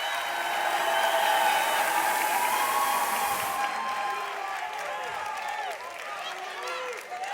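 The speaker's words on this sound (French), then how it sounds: "Est-ce qu'on peut applaudir, s'il vous plaît" An audience applauds and cheers at a senior gaming tournament final in Nouvelle-Aquitaine; a crowd of clapping and voices is loud at first, then fades in the second half while chatter continues underneath.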